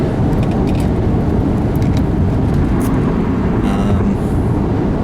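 Road traffic heard from inside a moving car, a loud, constant low rumble of engine and tire noise with no breaks, steady from start to finish.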